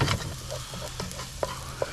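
Roughly chopped garlic fries in a pan for a pan roast, a steady close sizzle with a few light scrapes and clicks of stirring and a couple of brief sharp pops.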